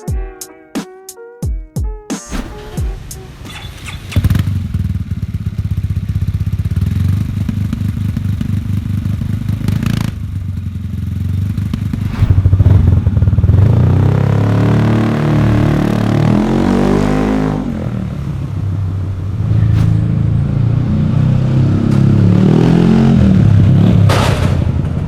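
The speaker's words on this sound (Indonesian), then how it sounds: "Ini pakai knalpot thermic Noni biar suaranya lebih mantap, lebih wah gitu." Yamaha XMAX scooter fitted with a Thermic Noni carbon exhaust, modified for a contest, starts with a few sharp clattering bursts, then settles into a loud, deep, steady idle that swells in several rev blips, close up with no voices.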